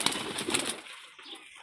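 Desi high-flying pigeon giving a short burst of soft cooing close by, fading out within a second into near quiet.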